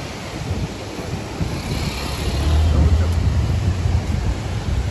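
A waterfall rushes in the Tatopani area of Mustang, Nepal, as a steady, loud broadband roar. Wind buffets the microphone throughout.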